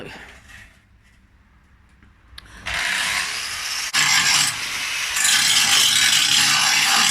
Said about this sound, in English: grinding off the rust